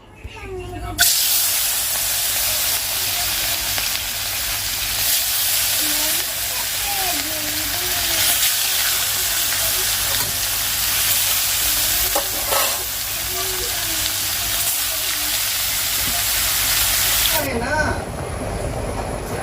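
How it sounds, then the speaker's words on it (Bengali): Rohu fish pieces rubbed with salt and turmeric fry in hot oil, making a loud, unbroken sizzling hiss that lasts for most of the stretch while someone talks over it. "তো মাছটা এখন ভাজা করব তো নিয়ে এসেছে রুই মাছ"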